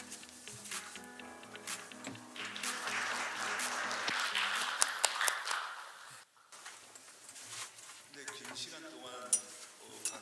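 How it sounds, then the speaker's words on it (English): Applause from a conference audience at an international IP court event, a moderate crowd clapping steadily for several seconds, then briefly dropping away before scattered claps and a faint voice return. "Please give him a big round of applause."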